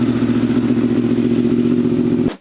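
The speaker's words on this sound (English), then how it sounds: "the reason the R1 sounds so good is because of that Crossplane engine." A Yamaha R1 motorcycle with a crossplane engine idles loud and close with a steady, throbbing low hum, then cuts off abruptly at the end.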